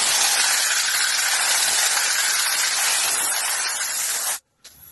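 Compressed-air gun spraying Gravitex stone chip coating onto a Ford Capri 2.8 rear wing repair, a loud steady hiss held for over four seconds before cutting off abruptly, then a brief faint puff.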